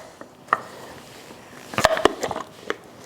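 A jar genie opener grips and twists a jar lid loose, giving a few sharp clicks and then a quick cluster of knocks and scrapes as the lid gives way, close and fairly quiet.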